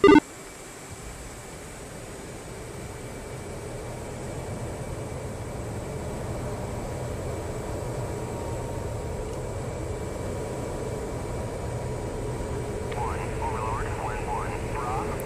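Jet engine spooling up in a flight simulator, a steady broadband roar that slowly builds and holds, with faint tonal whine and a late higher-pitched radio-like chirp.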